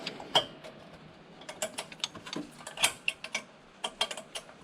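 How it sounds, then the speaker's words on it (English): Wrench working on stuck V-band clamps on a BMW N54 downpipe, giving irregular close metallic clicks, taps and ratcheting scrapes in quick uneven bursts, with no talking. "these V-bands they're pretty stuck in place. So you gotta kind of wrench away at them"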